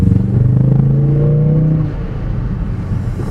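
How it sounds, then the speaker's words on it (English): Ford Focus RS on its stock exhaust revving loudly up close, a rising deep engine roar that drops off into a rumbling, crackling idle. "the exhaust has pops and bangs"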